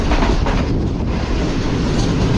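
The Tezgam passenger train rolls along the tracks between Karachi and Rawalpindi via Multan, a loud, close, continuous rumble with a faint clickety-clack from the wheels and no voices.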